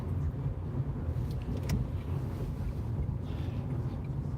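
A car cruising along the M61 and M60 motorways at night, with steady low road and engine rumble and tyre noise holding evenly throughout, close and continuous.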